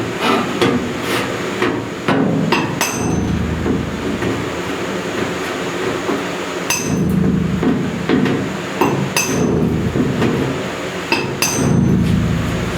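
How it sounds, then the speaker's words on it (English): A big hammer strikes a dented metal panel repeatedly, with loud, sharp metallic bangs in irregular bursts over a constant clattering, grinding background. "I'm also hitting it with a big hammer."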